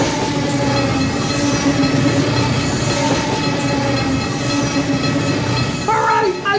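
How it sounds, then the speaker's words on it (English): A train rumbles loudly and continuously up close, wheels clattering and metal droning, with a rising squeal near the end, set within a dramatic movie trailer. "suddenly the sound of a train has become the most intense,"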